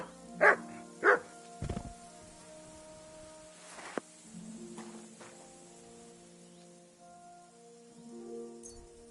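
A dog in the video game Kingdom Come Deliverance 2 gives two loud, close barks followed by a softer yip. Faint game background sounds continue underneath.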